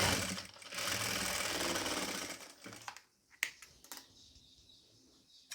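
A sewing machine runs steadily for about two seconds while stitching narrow piping onto a nighty, then stops and leaves a few sharp clicks and handling knocks, close by.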